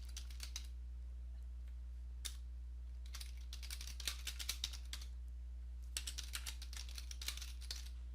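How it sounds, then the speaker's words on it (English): Computer keyboard typing in irregular bursts of quick close clicks separated by short pauses, over a low steady hum, with no voices. "then type in whatever signature you want"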